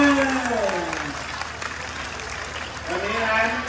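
A crowd at a 2025 string band contest applauds. The clapping is moderately loud and continuous, and a voice talks over it at the start and the end.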